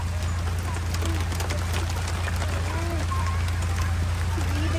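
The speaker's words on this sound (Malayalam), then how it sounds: "ഞാൻ മഴയത്ത് നനഞ്ഞുകൊണ്ടിരിക്കുന്നേ" Rain falling steadily outdoors during a downpour, a dense even patter with a constant low rumble underneath and a few faint bird calls, continuous throughout.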